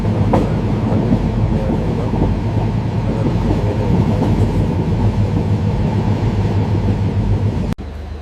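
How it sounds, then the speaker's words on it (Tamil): A train crosses the Pamban bridge to Rameswaram with a loud, continuous rumble and rattle heard from on board, then a sharp click just before the end. "ராமேஸ்வரம் பாம்பன் பிரிட்ஜ் கடந்து கொண்டிருக்கிறோம்"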